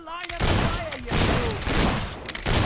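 Rapid in-game gunfire from Fable III, dense bursts of shots filling nearly the whole stretch, loud and close, with a voice talking over them.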